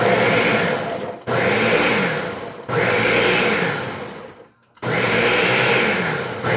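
A kitchen blender whirring through sofrito ingredients in four loud pulses, each running about a second or more with short pauses between, the motor pitch sagging slightly as it works.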